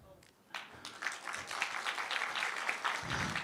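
Audience applause for a hackathon team at a health hackathon winner announcement, starting softly and building into steady, moderately distant clapping.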